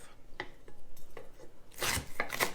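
A knife chops crunchy rhubarb stalks on a board, several sharp irregular cuts and taps followed by a louder clatter and scraping near the end, close and with no talking.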